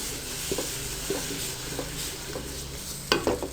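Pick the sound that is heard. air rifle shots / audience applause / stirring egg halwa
stirring egg halwa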